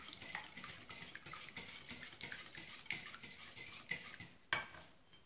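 Eggs, yogurt and sugar whisked together in a bowl for yogurt cake, a quick, close, regular clinking and scraping of utensil against the bowl that ends with one sharper knock.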